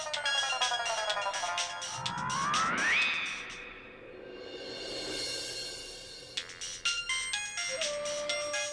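A mobile phone ringtone rings on its own at a distance in a home, a melodic electronic tune with rising tones and repeating bright chimes, moderately loud with no talking over it.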